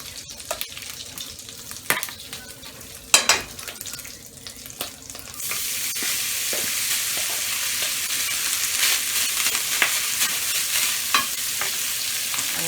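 Rice frying in a pan with oil and bacon grease: a few light clinks and scrapes first, then a loud, steady sizzle swells and holds, with occasional stirring knocks and no talking.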